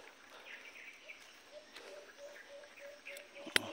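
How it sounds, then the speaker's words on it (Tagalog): Birds chirp faintly in an outdoor rural setting, scattered thin calls repeating at intervals over a steady background hiss, with a sharp click near the end. "May mga humuhuni mga idol, mga ibon."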